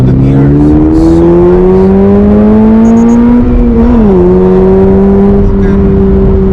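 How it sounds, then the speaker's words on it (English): A 2023 Subaru BRZ sports car pulling through the gears, a loud close engine and exhaust drone rising steadily in pitch, dropping sharply at an upshift, then climbing again, with a quiet voice briefly underneath. "You can bang through the gears and just hear the engine, the exhaust"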